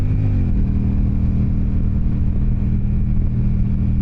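A motorcycle engine drones loud and close on a ride, with a steady rev and a slight shift in pitch early on, and no talk over it.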